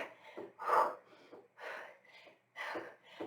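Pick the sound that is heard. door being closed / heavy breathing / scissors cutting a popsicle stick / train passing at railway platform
heavy breathing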